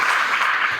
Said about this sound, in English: and the cheer goes up